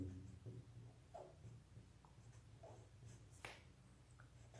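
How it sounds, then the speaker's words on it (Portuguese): Chalk or marker strokes on a board during a maths lesson give a few faint, sparse scratches and taps in a quiet room, with no talking. "Olha só o que eu vou escrever"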